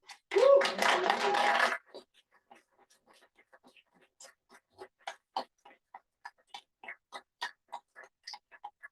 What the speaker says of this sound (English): got a nice applause, which we requested we don't do in public meetings